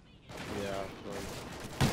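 Gunfire during a Search and Destroy round of an online shooter match, a steady burst of shots running under in-game chatter, with a sharper, louder blast near the end.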